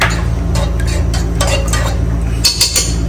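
Stirring and scraping in a pan of ghee and sunflower oil, with a low frying hiss under metal clinks and a few spoon strokes, close and fairly loud.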